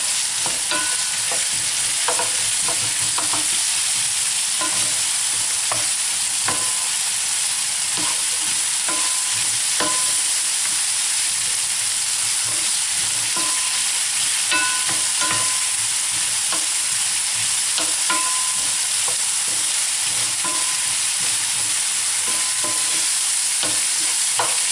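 Onion and courgettes sizzle loudly in a pan, a dense continuous frying hiss broken by repeated scraping and tapping as a utensil stirs them constantly.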